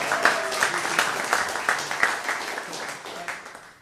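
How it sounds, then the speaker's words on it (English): A conference plenary audience claps together in sustained applause, a dense patter of many hands at moderate distance that tapers slightly toward the end. "we should have a clap for, for one another, but as well for the organizers, Ted and Maynard"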